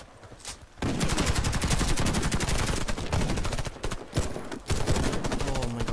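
Rapid automatic gunfire in the shooter game Warface, loud and close, in sustained bursts with brief gaps and near-continuous shots.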